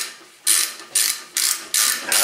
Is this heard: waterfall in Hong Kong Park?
no